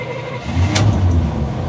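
A 1989 GMC 3+3 truck engine turns over and fires up on its first start in five days, a steady mid-pitched rumble that builds and holds close by, running alone without talk.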